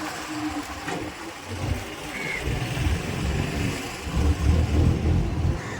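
Bus pulling into a nearly deserted bus stand in Trincomalee at night, a low rumbling engine growing louder as it moves in, heard moderately near with no talk.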